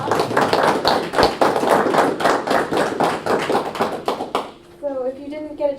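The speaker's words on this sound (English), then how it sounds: "Give your round of applause" A modest seminar audience at an energy action plan event claps in distinct, close hand strikes for about four seconds before it stops and a voice begins speaking.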